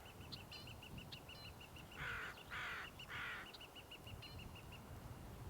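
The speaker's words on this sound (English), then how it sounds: "that's the northern flicker." A northern flicker calls three times in loud, harsh bursts, while a steady series of high chirps repeats in the background outdoors on a spring morning.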